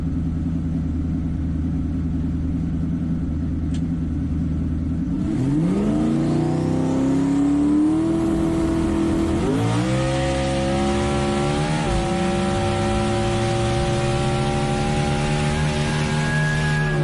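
A drag race car roars off the line and makes a full pass, its engine climbing through loud, rising revs with clear gear shifts, a powerful close snarl sustained to the end.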